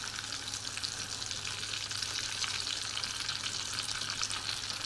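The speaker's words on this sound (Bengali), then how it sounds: "এটা মিডিয়াম চালে ভাজতে হবে, নইলে আবার পুড়ে যাবে" Beef kebabs fry in oil in a pan at medium heat, a dense steady sizzle with crackling spatter, close and continuous without a break.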